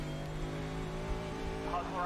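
A Mercedes GT3 race car in iRacing at the Nürburgring holds a steady, loud engine drone that rises in pitch toward the end as it drops down a gear, with someone talking over it.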